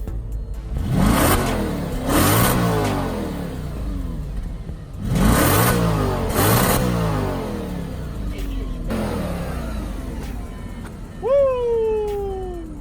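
An Audi RS5 engine revs hard in repeated bursts, rising and falling roars close by, followed by a brief high whining squeal near the end.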